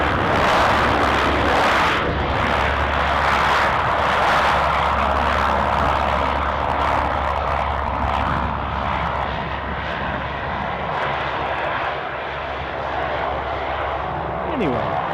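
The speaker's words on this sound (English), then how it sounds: "Is this a Saab 340 I'm thinking?" A Saab 340 turboprop roars loudly and steadily on arrival at Aberdeen Airport, with a constant low propeller drone and engine whine that eases slightly toward the end.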